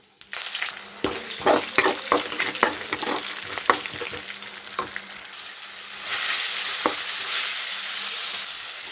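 Mango pulihora cooks in a pan used earlier for frying potatoes. A busy sizzle runs under repeated scraping stirs, then swells into a louder, hissing fry near the end.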